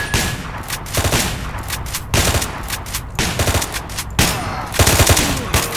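Rapid bursts of automatic gunfire from S.T.A.L.K.E.R. Call of Pripyat crackle loudly in repeated volleys about a second apart, dense and close, filling the whole stretch with no voices over it.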